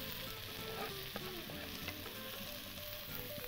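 Colored bell peppers and onion fry in butter with a little oil, giving a steady, quiet, close sizzle with faint crackles and occasional light stirring throughout.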